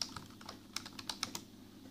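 Typing on a Lenovo Calliope USB keyboard, a low-profile membrane board: quiet, soft, uneven keystroke clicks spaced irregularly over a faint steady hum, close by.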